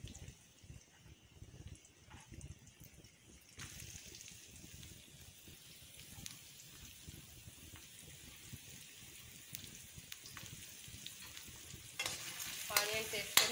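Onions frying in oil in a kadai: a soft, faint sizzle runs steadily beneath light stirring scrapes, with a brighter burst of crackling near the end, close by and without speech.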